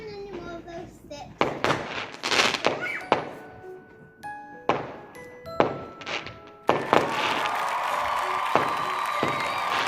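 Bonfire night fireworks burst in a string of sharp bangs and crackles, some close and loud, others farther off, ending in a dense crackling barrage, while onlookers murmur and exclaim between the blasts.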